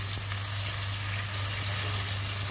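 Chopped tomatoes sizzle and fry steadily in a hot pan while burong isda, fermented rice and fish, is being cooked. A constant close hiss runs with no voices and no breaks.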